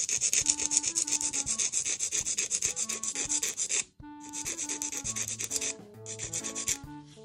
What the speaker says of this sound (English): And file a little bit underneath